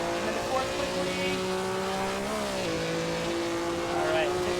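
A race car engine holds high revs in a racing sim, a loud, steady drone whose pitch climbs and dips through gear changes across several seconds.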